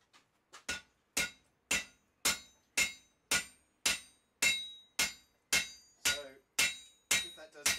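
Steady hammer blows strike hot steel while forging the clip of a knife, about a dozen sharp ringing metallic hits evenly spaced roughly half a second apart, each decaying quickly, close and alone.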